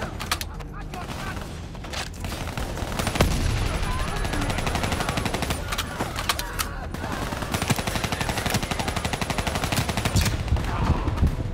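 Machine gun fire in Call of Duty Black Ops 3, long rattling automatic bursts from a gunner, loud and steady across most of the stretch with brief gaps, alongside voices and other combat noise.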